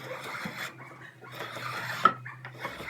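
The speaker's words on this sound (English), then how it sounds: "just go ahead and take a little chamfer on the back just so the dust has a place to go" Chamfering the back edge of a wooden crosscut sled, with steady rasping strokes across the wood and a sharper scrape near the end, close and moderately loud.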